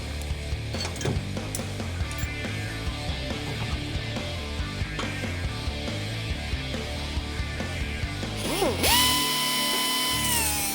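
A die grinder fitted with a cutting wheel notches a steel motor mount on a Pro Street Dodge Dart, giving a continuous loud mechanical whine and grinding, then a sharp high-pitched screech as the wheel bites near the end.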